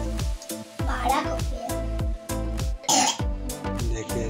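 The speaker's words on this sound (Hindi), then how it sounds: "रात में सोने का नतीजा पंखा चला के खांसी हो रहा है" A child coughs repeatedly in a string of sharp, close bursts with brief gaps, a few louder hacking coughs standing out, indoors at home after sleeping under a running fan.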